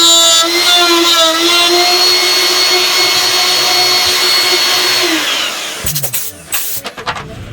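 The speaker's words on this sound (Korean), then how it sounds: "피스 자리를 구멍을 내고 있습니다. 나무가 워낙 딱딱해서 구멍을 내서 작업을 하지 않으면" Power drill boring screw holes into a hard wooden stair tread during house interior construction, a loud steady whine with harmonic tones lasting about five seconds, then breaking off into short uneven bursts.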